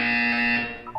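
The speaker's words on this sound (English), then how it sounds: "You will hear a buzzer." Buzzer in Portal 2, a single loud, steady electronic tone with a harsh harmonic edge, lasting most of a second before it cuts off.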